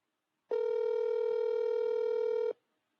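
A telephone line tone sounds steady and fairly loud, holding one unbroken pitch for about two seconds before cutting off cleanly, with nothing else around it.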